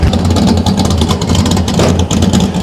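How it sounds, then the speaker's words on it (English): A 1966 Ford Mustang race car with side exit exhaust roars past close by, a loud, steady low engine drone that stays strong the whole time with no talk over it. "There's that side exit exhaust we were talking about."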